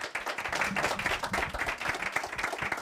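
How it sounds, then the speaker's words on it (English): Audience applause for Dave, a guest who travelled a long way to attend a class session, steady clapping from many hands filling the whole stretch at an even level. "let's give him a round of applause"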